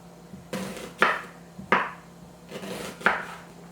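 Knife slicing an onion into thin half rings on a cutting board, a handful of crisp, close chops spaced about half a second apart with faint taps between, in a quiet kitchen.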